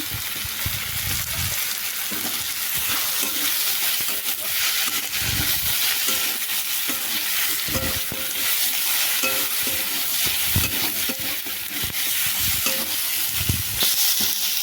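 Dried fish curry with green chilies frying in a pan, a steady hissing sizzle with periodic scraping stirs of a spoon against the pan, close and unbroken, with no speech.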